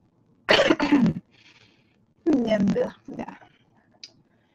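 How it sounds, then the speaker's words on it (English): Two bursts of harsh coughing, close and loud, each a quick cluster of hacks, followed by a softer short cough. "excuse me, I got a cough"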